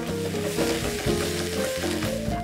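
Mushrooms sizzle loudly in a pan just after white wine is poured in to deglaze, a dense continuous crackle and hiss with stirring scrapes, close and alone.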